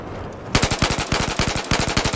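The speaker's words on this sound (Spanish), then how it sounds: "No, me están disparando." Rapid automatic gunfire in Battlefield 4 on the Hainan Resort map, a sharp, loud burst of evenly spaced shots that starts abruptly after a moment of quiet and keeps firing steadily to the end.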